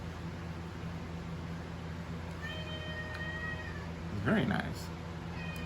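A house cat meows twice at a distance, a quiet drawn-out call followed by a louder, warbling one, over steady background hiss while a person says a couple of words.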